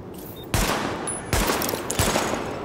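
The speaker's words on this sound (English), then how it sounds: "Weapon test initialized. Open fire at the highlighted targets." Bursts of automatic gunfire from a weapon test at highlighted targets in Tom Clancy's The Division, three loud rapid volleys separated by short pauses.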